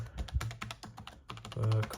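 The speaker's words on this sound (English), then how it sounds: "this is a basic typing test on the PowerBook" Brief bursts of key presses on a PowerBook 140 laptop keyboard, close and fairly quiet, in an uneven run of clicks with a short pause before more taps.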